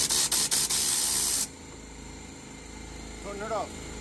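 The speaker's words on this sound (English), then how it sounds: "Let's talk about the air compressor now." Air compressor for a mobile car detailing setup: a loud broadband hissing roar with a few quick pulses, then it drops to a quieter steady hum with a brief faint tone near the end.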